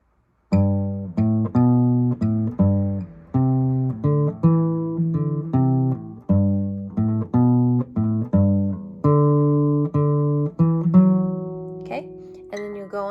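Guitar plays the opening of a beginner lesson piece, a steady series of clear plucked notes and strummed chords in even rhythm, close and moderately loud with no talking.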